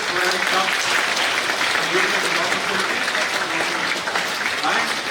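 Audience at a karate seminar hosted by a Japanese grandmaster, clapping together in a hall: a thick, sustained wash of applause that holds evenly from start to finish, fairly loud and close.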